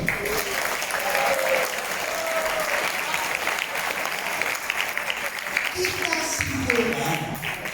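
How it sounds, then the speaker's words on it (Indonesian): An audience claps steadily through a public lecture on national insight, a dense, even patter of many hands lasting several seconds, with some murmuring and a speaking voice partly audible beneath. "Tepuk tangan dong."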